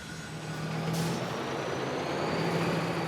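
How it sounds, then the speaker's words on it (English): A heavy truck rolls slowly across a ramp of just two logs onto a ferry pontoon, its engine droning loud and steady close by, with a brief hiss of air brakes. "Now it's all about steering the truck across the ramp"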